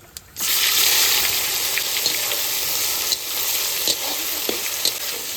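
Onions are dropped into a hot pan already holding oil tempered with bay leaf, dried chilli and cumin, then fry with a sudden, loud, steady sizzle, dotted with small pops and stirring scrapes.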